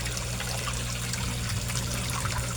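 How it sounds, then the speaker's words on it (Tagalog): An 18-watt aquarium air pump drives a constant, busy bubbling in a koi fish tank, a close, even, trickling fizz that runs unbroken with no talk. "Ang air pump ko ay 18 watts lang siya, pero ang lakas-lakas niya. Ang lakas niyang mag-create ng hangin, ng bubbles."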